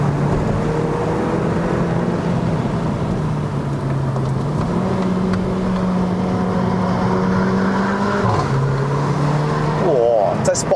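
Engine of a 2015 Mercedes-Benz A45 AMG 4Matic in Sport Mode, a loud steady drone heard from inside the cabin with pitch shifts as it pulls uphill on a wet road, with people talking over it.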